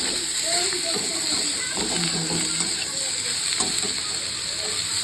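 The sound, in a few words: spinach leaves lightly frying in a pan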